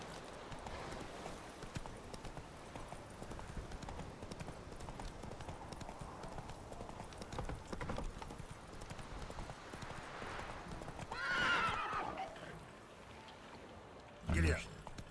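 Horse hooves clip-clopping in The Witcher 3, a steady trotting rhythm under someone talking, with a brief neigh near the end followed by a short thump.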